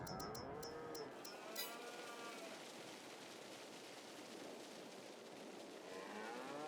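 Cattle moo in the video game Farming Simulator 22 while TMR feed is dropped for them, the lowing heard over steady farm ambience after a few sharp clicks at the start.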